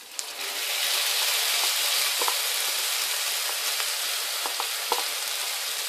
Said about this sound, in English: The onion is done nicely, and now I'm going to add the moong dal.